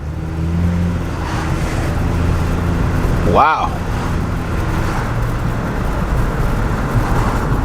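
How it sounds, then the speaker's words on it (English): A 2014 Dodge Journey engine hums steadily as the car accelerates along a road, with a constant drone of road noise beneath it and someone speaking briefly over it. "This car has some pickup to it"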